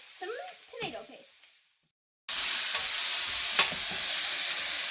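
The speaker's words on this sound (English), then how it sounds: "Now that I add my turmeric in, I'm going to fry it for a couple more minutes" Beef and turmeric fry for Persian Gheimeh stew: a voice first, then a brief silence, then a loud, close, steady sizzle with stirring scrapes.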